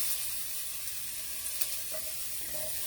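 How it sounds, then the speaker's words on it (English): Fried rice sizzling in a pan on the stove, a steady, quiet hiss of frying with faint crackles, heard alone. "So you want to hear the sizzle."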